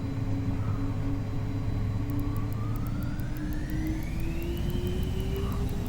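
A simulated aircraft accelerates down runway 36 on a rolling takeoff in Microsoft Flight Simulator 2024, a steady loud engine roar with a rising whine as it gains speed, and a faint rhythmic ticking running over it.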